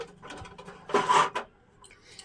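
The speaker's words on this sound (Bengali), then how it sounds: "কড়াইটা আবার বসিয়ে দেবো" A metal karai, a wok-style pan, is set back down on a home kitchen stove with a brief clatter and scrape of metal on the burner, near and moderately loud, followed by a few faint clinks.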